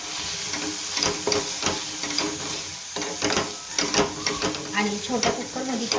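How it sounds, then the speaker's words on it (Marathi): Spices being sautéed in oil for a cowpea curry, with steady close sizzling and scraping stir strokes from a spoon in the pan, plus faint background voice at moments. "आता हे पण आपल्याला तेलामध्ये छान परतून घ्यायचं"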